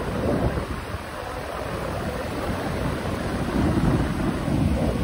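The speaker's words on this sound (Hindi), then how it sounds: "देखिएगा समुद्र का लहरें" Sea waves surge and wash continuously at Digha beach in the early morning, a broad steady roar with slight swells, mixed with wind buffeting the microphone.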